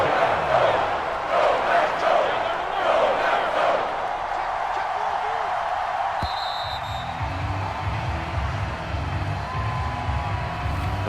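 A stadium crowd in Madden NFL 22 roars and cheers loudly at first, then settles into a lower murmur, with game sounds and a brief sharp click later.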